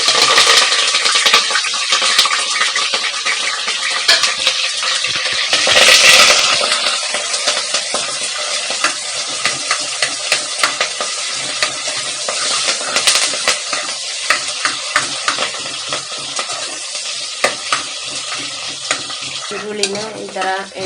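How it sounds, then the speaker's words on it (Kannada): Onions, green chillies and curry leaves frying in oil in a pan, with a continuous close sizzle and frequent scraping stirs and clinks of a spoon, no voices. "ಈರುಳ್ಳಿನ ಈ ಥರ ಎಣ್ಣೆಯಲ್ಲಿ ಚೆನ್ನಾಗಿ ಬಾಡಿಸ್ಕೊಳ್ಬೇಕು."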